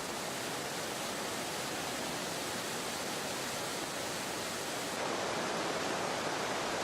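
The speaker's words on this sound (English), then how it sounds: "Emerald Pool is a small waterfall, 6 meters high." Steady, loud rush of falling water from the small waterfall at Emerald Pool, about six meters high, a continuous dense roar that swells slightly near the end.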